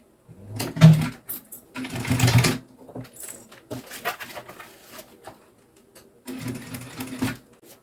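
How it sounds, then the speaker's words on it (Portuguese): An electric sewing machine stitches a zipper onto an insulated thermal bag in short bursts of rapid mechanical whirring with quiet pauses between runs, close by and fairly soft. "Então, eu vou costurar assim, tá?"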